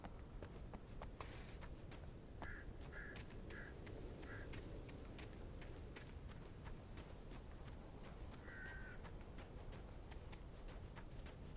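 Crows cawing in the video game Alan Wake, several short harsh caws in a scattered cluster then one more later, faint and distant over steady rustling and repeated clicking thuds.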